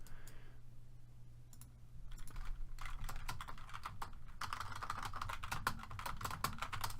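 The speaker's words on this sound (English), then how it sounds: "who the fuck is typing like that?" Rapid clattering keystrokes on a computer keyboard, close and busy, tapping in dense bursts over a low background hum with no talking.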